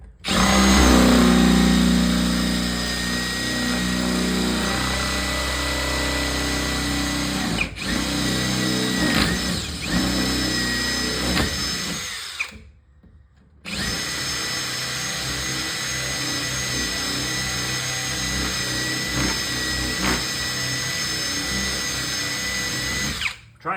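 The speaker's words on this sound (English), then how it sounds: "Trying to just drill it slowly because I don't know what's behind it." Loud, whining power drill running in long bursts while drilling slowly into a 1970 Bally arcade game, briefly cutting out near the middle before spinning up again and continuing steadily.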